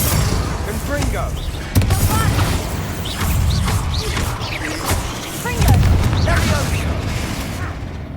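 Confringo fire spell cast in Hogwarts Legacy, a burst of blasting crackle and impact against a loud, busy game soundscape, with bright magical sparkle tones scattered over dense low rumble.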